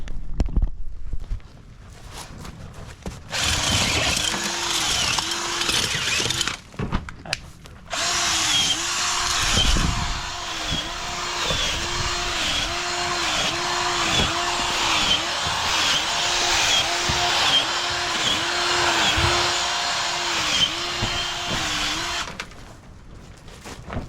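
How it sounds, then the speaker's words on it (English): A power planter auger fitted with a 2.5-inch bit bores holes in garden soil, its motor whining steadily under rhythmic, repeating grinding pulses, with brief stops at the start and end. "Using the power planter today."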